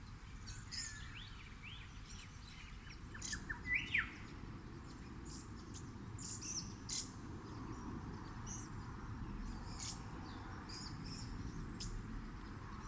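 Lorikeets in a mixed flock, including little lorikeets, give scattered high chirps and screeches from a distance, faint over a steady low background hum, with a slightly louder cluster of calls early on.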